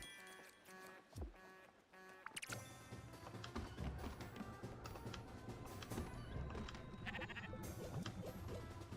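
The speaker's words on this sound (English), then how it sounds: "Oh, I accidentally starved my sheep." Sheep in the video game Spiritfarer bleat several times, loud and close, over a busy game backdrop of music and ambient effects.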